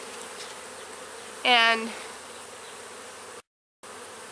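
Honeybees buzz steadily around hive frames during a honey harvest, with one louder close pass of a bee near the middle and a brief spoken word.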